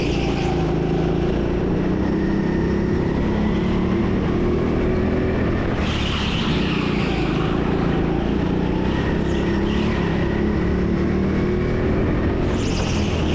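A go-kart on a flying lap at TeamSport Sheffield indoor track, engine droning continuously and loud, pitch rising and falling through the corners.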